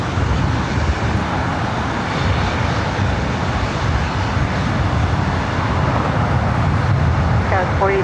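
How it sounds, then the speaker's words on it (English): A SkyWest Embraer E-Jet flying as Delta Connection takes off at LAX with a loud, steady jet roar. Broadband rumble fills the whole stretch, and traffic noise hums faintly underneath. "Another E-Jet. Delta Connection, SkyWest, heading to Sacramento"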